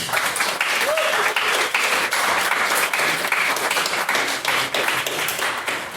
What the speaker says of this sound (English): Get a second round of applause for Mr. Wise's maiden speech, please.